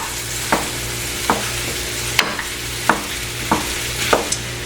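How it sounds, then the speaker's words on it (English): Breakfast sausage, a 2-pound package, fries in a pan with a constant sizzle broken by about seven sharp scrapes and taps of a spatula stirring it, close and without talk. "I'm going to go ahead and cook my breakfast sausage."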